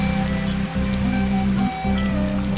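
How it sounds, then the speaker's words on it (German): Rain patters steadily and densely on an umbrella, close and continuous, with brief dips in the drumming as drops keep falling through it. "Durch den Schirm regnet das."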